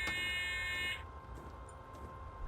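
A warning beep in a train cab in Train Simulator 2014 sounds as a steady, buzzy electronic tone for about a second, then cuts off, leaving the quieter low hum of the cab.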